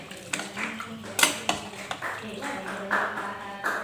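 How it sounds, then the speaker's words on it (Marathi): A spoon stirs khichdi in a metal pot after salt goes in, giving irregular clinks and scrapes against the pot under a steady kitchen background. "परत एकदा हलवून घेणार"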